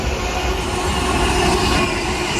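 Freight train passing through Bletchley railway station, a loud, steady rumble and wheel noise that fills the whole span with no let-up.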